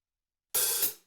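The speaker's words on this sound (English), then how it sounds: "this is an open hi-hat sound" Open hi-hat from a Roland XV5080 synthesizer: one bright, sizzling hit that starts sharply, holds briefly and decays over about half a second, alone and close.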